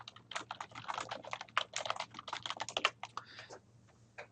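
Someone typing a title on a computer keyboard, a rapid close run of key clicks for about three seconds that tapers into a few last taps over a faint electrical hum.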